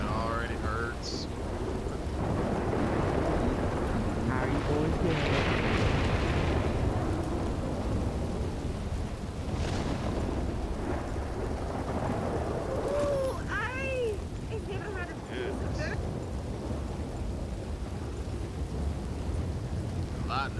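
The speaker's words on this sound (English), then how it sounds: "Hopefully the rain breaks before we get there, because this is miserable already." Steady heavy rain with rolling thunder booming throughout in Red Dead Redemption 2 roleplay, a voice briefly heard over the downpour.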